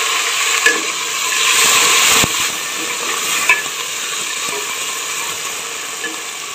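Tomatoes added to onions frying in a pan, a loud close sizzle with scraping stirring strokes and a few sharp clacks of the spoon against the pan, steady throughout with no talk.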